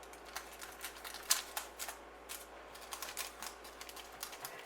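Knife cutting a tray of coconut potato candy into marked squares, a series of soft, irregular taps and scrapes against the pan, faint and close with no talking.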